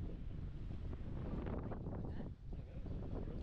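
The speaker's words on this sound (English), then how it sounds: "You're probably not going to hear me because it is so windy." Strong coastal wind buffets the microphone in a Scottish village, a continuous roaring rumble with gusts that swell and briefly drop, drowning out everything else.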